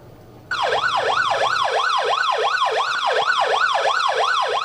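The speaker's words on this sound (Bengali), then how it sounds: "ময়নাতদন্ত শেষে খোরশেদ আলমের মরদেহবাহী অ্যাম্বুলেন্স কক্সবাজার শহরের পাহাড়তলির বাড়িতে পৌঁছালে কান্নায় ভেঙে পড়েন স্বজনরা।" An ambulance carrying a body arrives at a home in the Pahartali area of Cox's Bazar town, its siren sweeping up and down in a loud, regular wail that starts abruptly and continues alone.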